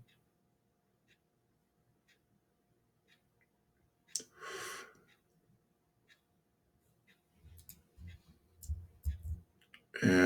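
Sparse, faint single clicks of a computer mouse spaced a second or two apart in a quiet room, with a voice talking and some rustling in between.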